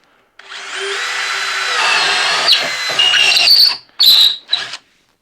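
A DeWalt XR drill/driver on speed 2 spins a 3/4 inch speed bore bit into wood, a loud steady whir that rises as the bit bites, then stops with a couple of short bursts and spin-downs at the end.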